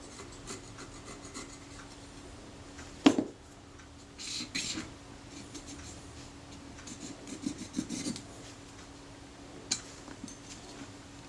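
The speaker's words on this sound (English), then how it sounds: "I'm just scraping that off with the back edge of the scalpel blade." The back edge of a scalpel blade scrapes corrosion off a metal part of a Kodak Retina IIS 35mm film camera. It makes close, quiet rasping strokes in short bursts, with one sharp click and a low steady hum behind.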